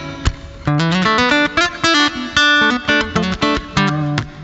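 Electric guitar notes and chords played through a Boss Katana amp with reverb, a lively run of plucked phrases, close and clear with no voices.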